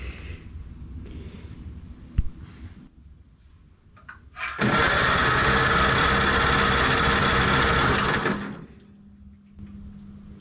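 A 1949 Farmall Cub tractor engine sputters on choke, catches and roars loudly for several seconds, then drops back to a quieter uneven idle.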